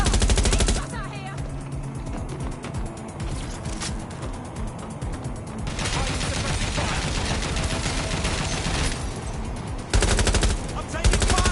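Sustained automatic gunfire from the video game Watch Dogs: Legion, loud and dense with rapid repeated shots and mechanical clatter filling the whole stretch, briefly thinning before resuming with renewed intensity near the end.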